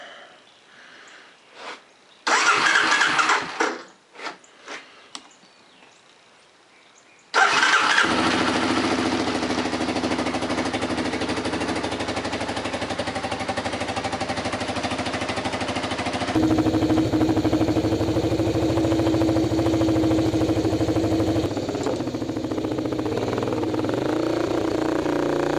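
A Honda Big Red 250ES three-wheeler gives a few short sputtering cranks, then catches and settles into a steady, close idle that runs on evenly with a slight shift in pitch partway through.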